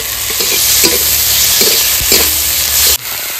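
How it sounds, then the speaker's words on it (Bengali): Chopped onion, tomato, ginger-garlic paste, green chilli paste and spices fry in oil tempered with nigella seeds for a hilsa dish, making a loud close sizzle with repeated scraping stirs and a knock near the end. "মশলা কষানো হয়ে গেছে"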